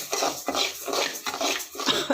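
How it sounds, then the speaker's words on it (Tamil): Ingredients dry-roasting in a pan over a low flame are turned with steady, repeated scraping and rustling strokes, close up, forming an even back-and-forth rhythm with no voices. "சிம்மில் வச்சுட்டு இப்படி திருப்பி விட்டு வறுத்துக்கிட்டே இருக்கணும்"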